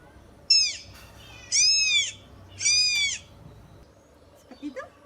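Three drawn-out, high meows in a row, evenly spaced, then a couple of faint short squeaks; the meows sound like a person imitating a cat.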